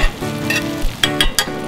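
Chopped onion and tart green apple sizzle softly in a pan with a steady close hiss, while a few sharp crackles and pops break through near the end.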